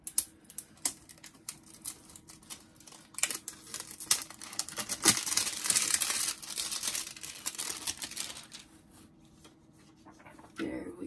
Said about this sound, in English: let's see if we can get the plastic off